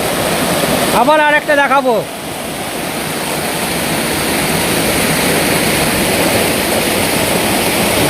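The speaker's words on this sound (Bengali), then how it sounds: "এই হচ্ছে ঢাঙ্গিকুসুম ওয়াটারফলস। জল দেখো, ওটা ফলসটাকে দেখো।" The Dhangikusum waterfall roars in a steady, loud, broadband rush of falling water on a hill tour in Belpahari, Jhargram, with someone speaking briefly over it near the start.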